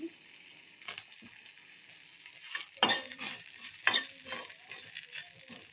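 Mint leaves frying and being stirred in a pan, with a soft, steady sizzle and a few louder scraping stirs near the middle and end.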